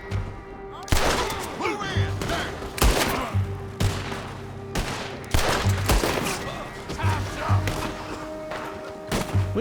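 Rapid gunfire bursts from a Red Dead Redemption II firefight, sharp volleys and thuds repeating through the stretch at mid distance, with a steady low hum beneath.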